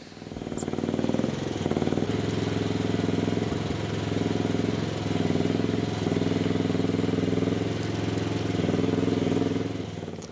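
A 13.5 horsepower engine on a Chinese 1-ton mini excavator runs steadily nearby, a continuous low, throbbing drone with slight load swells throughout.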